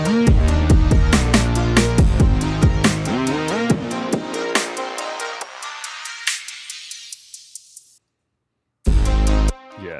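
A music loop plays in Ableton Live while a sweeping DJ filter swell gradually shifts its tone, the sound thinning out before cutting to silence, then a brief loud burst returns.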